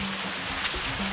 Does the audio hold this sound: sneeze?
no